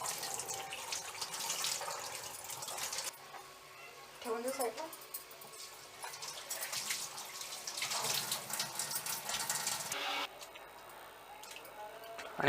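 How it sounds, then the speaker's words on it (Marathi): Goat intestines being rinsed in clean water at a tap, with running and splashing water steady throughout, briefly quieter mid-clip, while a person talks over it. "तर आता या ज्या आतड्या आहेत त्या आपल्याला 1-2 वेळा स्वच्छ पाण्याने धुवून घ्यायच्या आहेत"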